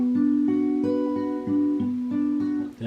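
Slow guitar arpeggio picked across the top three strings, single notes ringing one after another in an even pattern, close and clear with no voice over it.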